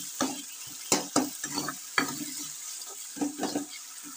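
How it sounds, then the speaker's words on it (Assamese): Potatoes fry in tomato masala over a high flame, the soft sizzle broken by repeated scraping strokes of a spoon stirring the pan, close and fairly quiet with no talking. "1-2 মিনিটমান ভাজি ল'ম।"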